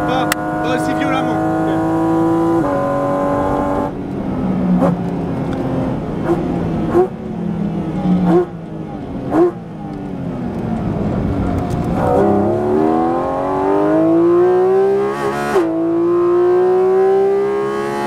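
A Porsche GT4 RS engine on a race track, loud and close, revving up through the gears in rising whines with abrupt drops at the shifts and a brief lift off the throttle, heard through the cabin while people talk.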